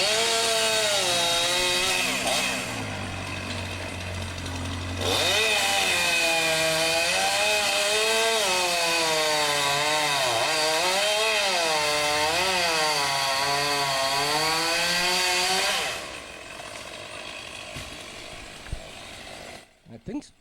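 A chainsaw cuts down a rotted tree, its engine droning loudly and steadily, then rising and wavering as it bites into the wood before cutting off.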